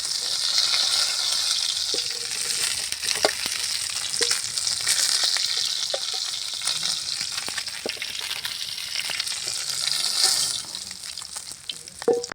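Fish sizzles and crackles steadily as it fries on a tava, a loud, continuous hiss with occasional sharper pops and spatters close by, and no voices.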